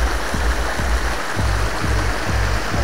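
Water flows continuously down a jungle waterfall and along a stream, a close, steady rush broken by soft, regular low thumps roughly every half second.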